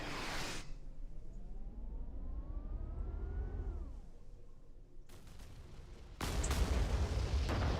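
Cannon fire in a competitive online video game match, a burst of booming blasts at the start, a whistling rising-then-falling tone through the middle, then heavy crashing impacts toward the end, loud and with no talk.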